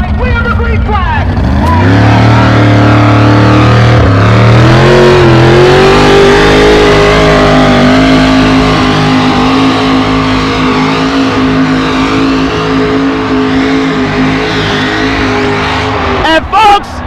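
A truck-pull truck's 672-cubic-inch engine roars hard from a standstill, pitch climbing steadily as it pulls, loud and sustained, with a crowd and announcer faintly under it.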